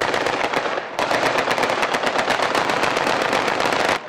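Rapid automatic weapons fire crackles continuously during a prison riot suppression, loud and dense bursts of gunfire with sharp blasts from stun grenades layered in, no speech.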